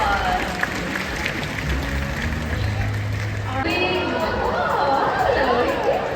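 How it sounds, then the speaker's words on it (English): After a bird show, an audience claps in a steady, fairly loud round of applause that lasts the whole clip, with crowd chatter underneath and a voice talking over it. "Let's give Sassy a round of applause"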